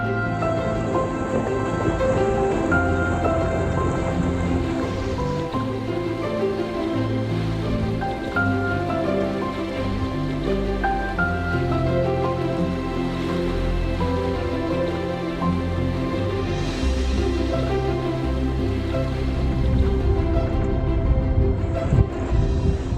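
Rainforest rain pours steadily onto a jungle river around an anchored sailboat, a dense, continuous hiss with no pauses and no voices.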